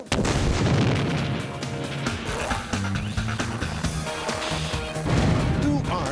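An underground explosion set off beneath a golf green to sink a putt bursts out in heavy booms and crashing impacts, loud and jumbled over a bed of music.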